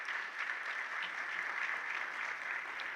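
A graduation and induction ceremony audience gives a steady round of applause, a continuous wash of many hands clapping at moderate distance with no speech over it.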